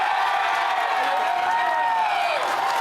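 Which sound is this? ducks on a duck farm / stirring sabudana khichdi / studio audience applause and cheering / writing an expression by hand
studio audience applause and cheering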